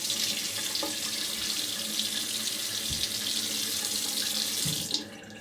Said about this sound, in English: let's have a rinse, see how I did